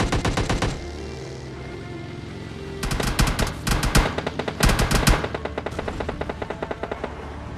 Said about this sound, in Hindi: बंदों का फायर आता है मेरे ऊपर